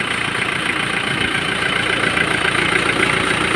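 Isuzu Bighorn with a 4JG2 diesel engine idles steadily after a low-power repair, a close, loud, even diesel rumble with a constant hum and no speech.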